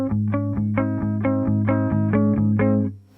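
Clean electric guitar through a valve amp with a Red Witch Lily boost pedal, a steady rhythmic pattern of plucked chords repeating evenly for a few seconds, then fading.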